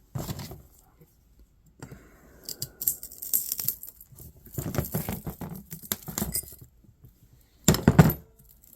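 Scrap being cut apart by hand, one-handed, with scattered metallic clicks, snips and rattles in irregular bursts, some close and sharp, with quiet gaps between.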